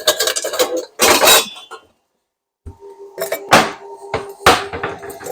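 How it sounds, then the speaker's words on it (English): Metal cake pans clank and rattle as they are pulled from a kitchen cupboard, with a couple of quick clattering bursts, a short pause, then several more sharp knocks and scrapes close by. "let me get down here and get these pans out."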